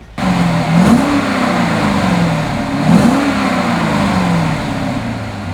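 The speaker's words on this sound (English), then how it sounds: "how about I start it for you so you can hear what it sounds like?" A 2006 Chevrolet Corvette Convertible engine fires up and runs, starting abruptly, then settling into a loud, close idle with two rising revs that sweep up and fall back, alone without talk.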